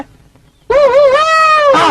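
A person imitates a fox howl with a loud, sustained wavering vocal tone that begins abruptly after a quiet moment and lasts over a second, close to the microphone.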